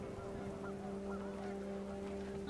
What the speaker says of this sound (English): Wind picked up, and panicked geese appeared and quickly went.